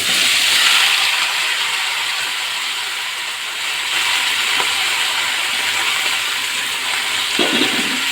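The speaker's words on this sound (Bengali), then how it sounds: "এই তেলের ভিতরে আমি এখন সবজিটা দিয়ে দেবো। এই সবজিটা হালকা ভাজবো এরকম।" Steady broad hiss of vegetables being lightly fried in hot oil for a chicken and vegetable khichuri, loud and close, sizzling continuously with a slight swell midway and no voices.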